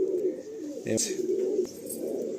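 A Madrasi Malwai pigeon coos in a low, steady murmur lasting about two seconds, close by, with a brief scuffle of handling noise partway through.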